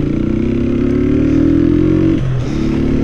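Motorcycle fitted with an aftermarket Fortuna Estralador exhaust revs loudly and steadily, holding a raised engine note before dropping back briefly near the end, with no talk.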